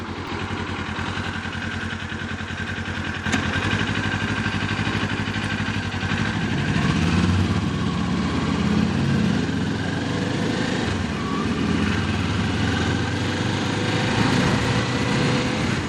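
Engine of a 2025 Kawasaki Ninja 500 motorcycle heard while riding, a steady buzzing drone that shifts in tone partway through as the revs fall, with constant wind rush around it.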